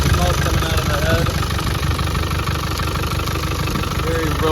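A 1996 Land Rover Defender 90 with the 300Tdi diesel engine idles close by, a steady, even, slightly knocking clatter that runs unbroken while a person talks over it.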